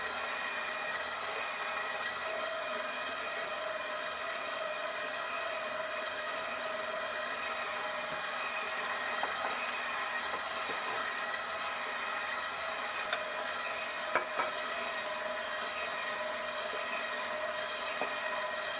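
KitchenAid 5.5-quart bowl-lift stand mixer running steadily on speed 2 while mixing batter with flour and buttermilk, a soft, even motor whir at low volume with faint clinks, no talking.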